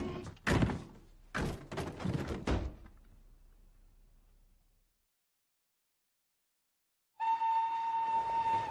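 A train at a station with a Hyde Park, London service: heavy door thunks and clattering bangs, a fading rumble, a few seconds of silence, then a loud sustained whistle-like tone from the train.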